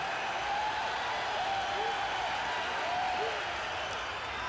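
A packed Fenway Park crowd in 1986 cheers Roger Clemens's strikeouts: a steady, distant roar of massed voices and applause holding at an even level throughout.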